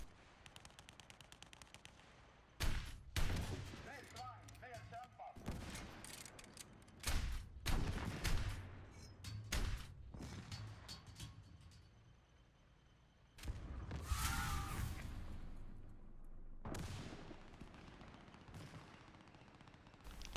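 An anti-aircraft truck gun in War Thunder fires at Panzer III tanks about 500 meters away, with several loud, sharp bursts of automatic fire spaced across the scene between quieter pauses.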